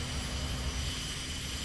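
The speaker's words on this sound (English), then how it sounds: "some aircraft somewhere. Can hear them, can't see them." A steady, broadband engine roar from aircraft somewhere in the distance in the VTOL VR flight game, a continuous dull drone with no talking.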